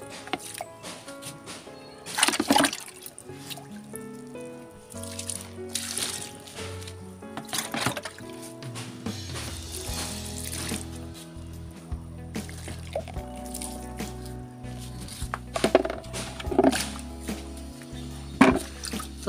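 Homemade liquid organic fertilizer from vegetable and banana peels poured onto the base of garden plants, with intermittent trickles, drips and splashes close by alongside scattered clinks and handling noises.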